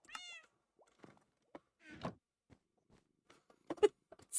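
A cat meows several times in Minecraft, short bright calls spaced apart with soft knocks and thuds between them, close and clear with no talk over it.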